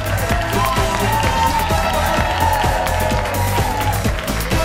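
A lively studio audience at a daily talk show claps and cheers steadily, a dense wash of applause and whoops with voices mixed in.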